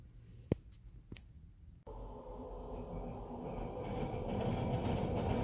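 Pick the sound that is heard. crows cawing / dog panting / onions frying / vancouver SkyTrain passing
vancouver SkyTrain passing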